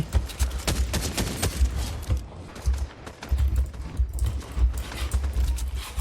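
Gunfire in Fortnite crackles in quick irregular volleys of sharp reports, mixed with thumping impacts and a low steady rumble, loud and continuous throughout with a brief lull midway.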